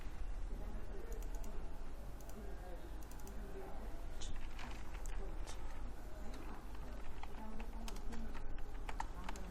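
Quick, irregular clicks of a computer keyboard tapping out a search query, light and fairly close, running beneath a person talking quietly the whole time.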